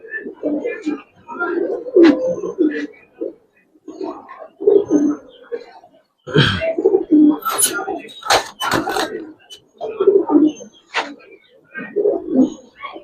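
Giribaz tournament pigeons in a loft coo in repeated throaty bursts close by, rising and falling in a loose rhythm, with some voices mixed in.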